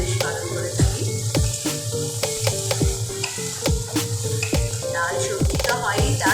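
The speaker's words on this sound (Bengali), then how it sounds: "দেখুন আস্তে আস্তে আমার মশলাটা সুন্দর ভাজা হতে শুরু হয়ে গেছে" Masala spices fry in a pan for an aloo paneer dish, a steady loud sizzle broken by regular scraping strokes of a spatula stirring against the pan, close up.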